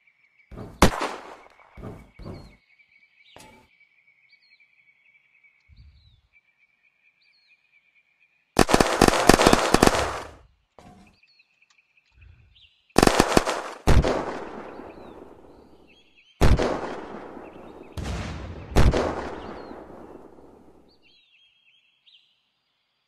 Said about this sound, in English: I'm just trying to find where these motherfuckers are shooting.